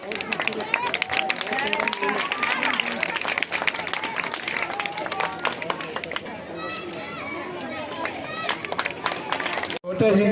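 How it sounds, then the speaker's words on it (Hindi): An audience at a school inauguration in a village panchayat applauds loudly to welcome guests, dense rapid clapping continuing for several seconds mixed with children's voices and crowd chatter. "जोरदार तालियों से इनका स्वागत।"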